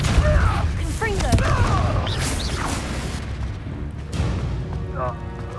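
Confringo blasting spell explosions in Hogwarts Legacy, deep booming blasts with crackling debris and magical shimmer layered over a busy game soundscape.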